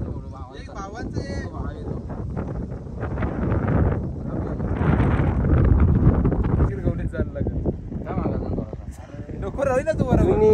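Cold wind blows steadily on a hilltop, buffeting the microphone with a continuous low roar that swells midway. People talk through it.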